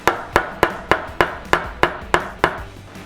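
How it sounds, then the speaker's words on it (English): Sharp wooden knocks from a piece of oak used as a hammer on a K98k rifle, striking in a steady rhythm, about nine blows in three seconds, close and fairly loud with brief ringing decay. "I'm going to just use this piece of oak again as a hammer."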